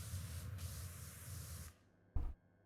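Pressure washer water spray in the video game PowerWash Simulator 2: a loud steady hiss for over a second and a half, then silence, then a second short spray burst.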